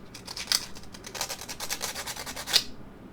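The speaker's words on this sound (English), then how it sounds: "Now I'm just gonna take some sandpaper and make all of the edges of my dowels nice and smooth." Sandpaper rubs against the rough ends of wooden dowels in short, scratchy strokes, close and fairly quiet, with a few brighter rasping passes.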